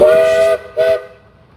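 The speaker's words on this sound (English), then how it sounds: "Here we have a smaller advanced steam engine coming. 6 horsepower advanced Rumely." A small 6 horsepower Advance Rumely steam traction engine at the 2021 Rough and Tumble engine reunion gives two loud, close steam whistle blasts, a longer one followed by a shorter one, then the sound dies away to quiet.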